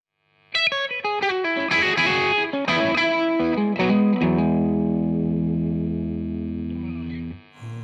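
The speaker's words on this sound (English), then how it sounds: "That brutal bridge sound." A heavily distorted electric guitar on its bridge pickup, a Reverend Eastsider S or an American Original '60s Stratocaster, plays a quick run of chords and notes, then lets a thick low chord ring out loud and sustained before it cuts off.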